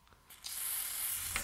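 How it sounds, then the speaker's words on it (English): Cleaner sprays in a single steady hiss onto an Otari MX 5050 tape machine, starting after a soft faint rustle and holding for about a second, close and quiet, with no talking. "I'm going to spray it as we go."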